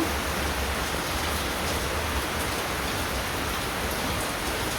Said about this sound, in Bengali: বৃষ্টি নামছে